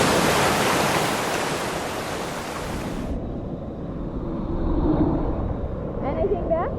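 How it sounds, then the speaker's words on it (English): Ocean waves surge and wash onto a desert island shore, loud and close, with heavy wind rumble on the microphone at first, then a steadier surf wash and a few faint high sounds near the end. "When those waves come in, there's a huge big surge as it all pulls back out"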